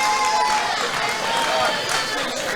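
Crowd noise at a boxing fight: a steady, dense roar of clapping and cheering from a large audience that holds at an even level throughout, with no single voice standing out.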